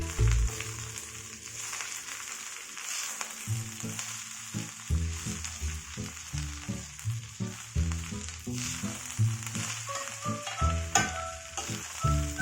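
Drumstick leaves frying in a pan with red cow peas, a steady loud sizzle with occasional stirring scrapes over background music.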